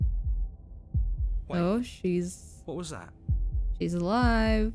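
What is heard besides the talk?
heartbeat in a video game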